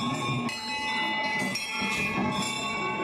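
A bell rings at a Hindu temple where worshippers queue to pray, with repeated bright metallic strikes and long shimmering overtones overlapping into a continuous ring.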